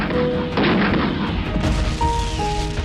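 Artillery cannons fire in the 1965 India–Pakistan war, a dense wall of booming blasts and rumbling echoes that continues without a break, loud and close.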